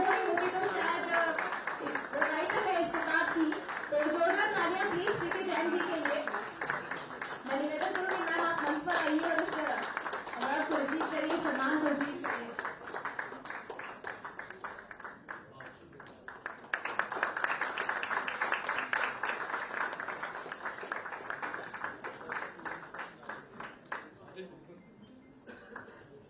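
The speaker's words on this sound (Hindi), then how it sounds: "तो जोरदार तालियां प्लीज प्रीति जैन जी के लिए।" An audience at a coffee table book launch applauds for Preeti Jain, with steady, dense clapping that runs throughout, a voice talking over the first half, and the clapping fading out near the end.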